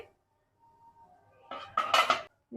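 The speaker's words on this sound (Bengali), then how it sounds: "ভালো করে একবার নেড়ে দেব এইভাবে অনবরত নেড়ে চেড়ে খামিরটা খুব ভালো করে করে নিতে হবে" Rice flour dough for papad being stirred in a pan with a utensil, heard as a short burst of close metallic scraping and clanking after a quiet moment, with no talking.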